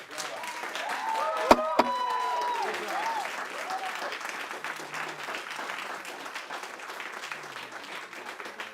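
Scattered applause from a crowd at a school board meeting, a steady diffuse patter that fades and thins out over several seconds, with a couple of sharp knocks early on.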